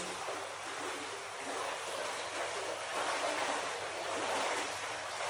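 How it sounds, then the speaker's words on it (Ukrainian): A swimming pool's counter-current jet churns the water in a steady, broadband rush that holds at a fairly even level throughout, with no voices. "Як бачите, був включений протиток для того, щоб підвищити ефективність перемішування."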